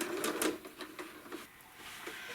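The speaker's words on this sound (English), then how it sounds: "I'm going to take a couple small stitches to make the knot." A sewing machine takes a couple of small stitches to knot the thread while machine quilting a full heart panel: a quiet run of quick mechanical taps and clatters, then softer scattered clicks.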